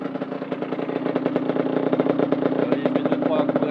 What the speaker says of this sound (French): il met 2-3 coups d'accélérateur